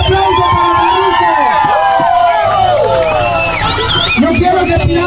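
A large crowd at a farewell for Farruko Pop in Cobán, Guatemala cheers loudly, with whoops and shouted voices rising over a continuous roar of babble.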